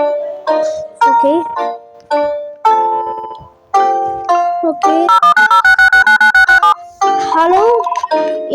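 A phone rings inside a Roblox horror game set aboard an airplane, a loud repeating electronic ring tone sounding in steady bursts, mixed with other game chimes and melodic tones.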